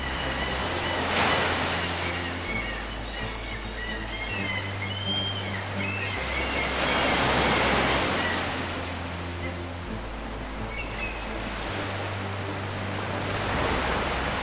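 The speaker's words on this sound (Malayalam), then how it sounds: "കടലുണ്ട്, തിരമാലകളുണ്ട്, കാറ്റുണ്ട്" Ocean waves surge and wash in rolling swells onto a black sand beach while wind blusters across the microphone, with a low steady hum underneath.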